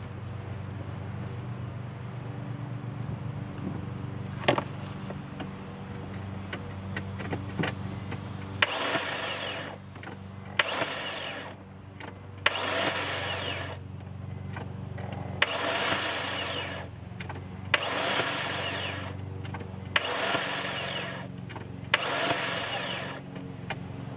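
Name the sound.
BMW 325i engine cranking over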